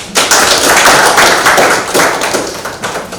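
An audience applauds an award winner at a national excellence prize celebration, loud close clapping that swells quickly, holds dense, then thins into scattered claps toward the end.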